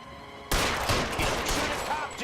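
Burst of gunfire from looters in the video game L.A. Noire, rapid overlapping shots and echoing cracks starting abruptly after a brief quiet moment, loud and dense throughout.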